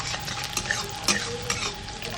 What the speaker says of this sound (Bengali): আর পেঁয়াজটাও মোটামুটি ভাজা হয়ে এসছে, আর একটু ভাজা করে নেব